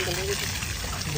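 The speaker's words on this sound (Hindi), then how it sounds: "बिना मोटर के इसमें तेज प्रेशर आ रहा है पानी का, कितना काला पानी निकल रहा" Water gushes under strong pressure out of a large pipe on a terrace under renovation, a steady broadband rush with people talking over it.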